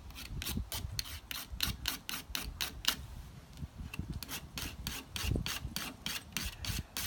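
A metal spatula drawn through a carbide sharpener, a rhythmic series of about twenty quick, raspy scraping strokes at a steady pace, close and fairly quiet with no talking.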